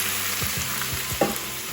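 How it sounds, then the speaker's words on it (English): Bulgogi beef sizzling in a hot pan, a steady frying hiss with a few soft stirring scrapes and a brief clack near the end. "And you should hear a nice sizzle"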